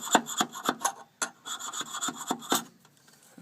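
A flat chisel scrapes an old head gasket off a Victa lawn mower engine, giving a series of short, close, rhythmic scraping strokes with brief pauses between them.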